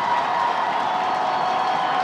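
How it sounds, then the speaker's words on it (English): Dense, continuous roar of a football stadium crowd cheering at a varsity high school game, Lake Orion against West Bloomfield, steady and loud for the whole stretch with no clear talk above it. "Listen to the crowd, Doug."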